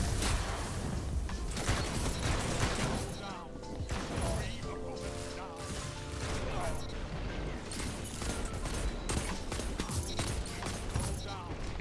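Sniper shots from the Whisper of the Worm rifle in Destiny 2 PvP ring out as sharp, loud cracks scattered through a dense mix of game effects and a talking voice.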